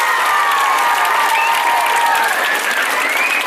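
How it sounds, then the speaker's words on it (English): A large group of school students applauds their rugby team, loud and continuous clapping with some cheering and high shouts running through, close and sustained. "So clap for your team."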